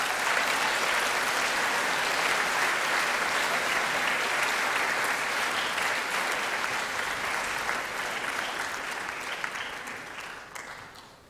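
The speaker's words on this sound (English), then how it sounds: "Can we give them all a round of applause." Crowd applause at a college graduation ceremony honouring parents, carers and supporters: a broad, continuous wash of clapping holds steady, then gradually fades over the last few seconds.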